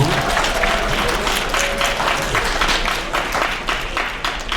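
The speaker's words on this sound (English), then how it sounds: "So give yourselves a round of applause." An audience gives a round of applause during a school writers' week poetry event, a dense, steady wash of many hands clapping at close range that fades slightly toward the end.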